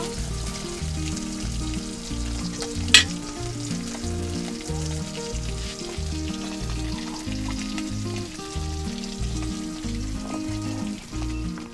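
Bata fish frying gently in oil over low heat, giving a steady, even sizzle throughout with one sharp clatter near the start.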